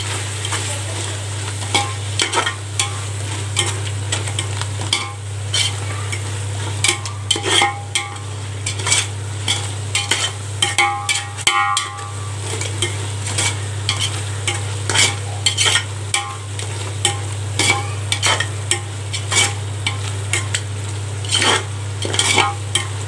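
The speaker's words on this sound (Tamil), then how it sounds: "தக்காளி மல்லியில் புதினாலாம் நல்லா வதங்கிருச்சுங்க." Tomato, coriander and mint sautéing in a pan for mutton dum biryani: a steady sizzle runs under frequent stirring and ladle clinks against the pan, close and continuous, with no talking.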